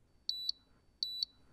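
Two short, high electronic beeps from a TESA-HITE height gauge sound in quick succession, sharp and clear against near silence.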